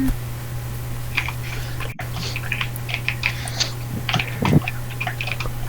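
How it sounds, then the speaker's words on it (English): Rapid, uneven computer keyboard typing clatters in quick bursts of clicks at moderate volume, with a brief dropout partway and a steady low hum underneath. "Whoever's typing, shut up."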